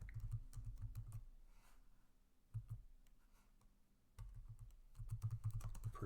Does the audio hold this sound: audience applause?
no